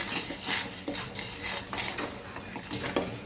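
A ladle stirs thick ragi java porridge in a pot, giving repeated close metallic scrapes and clanks in an uneven rhythm, quiet overall with no talking.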